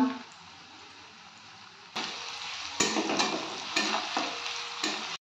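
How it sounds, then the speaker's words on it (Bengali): Onions and garlic paste frying in a pan with dried red chillies for chicken kosha, a steady sizzle that grows louder as the mix is stirred, with scraping strokes of the spatula near the close. "পেঁয়াজ আর রসুনটা ভালো করে ভাজা হয়ে গেছে"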